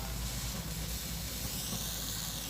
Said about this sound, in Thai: จะคั่วให้จนเขาสุกนะครับ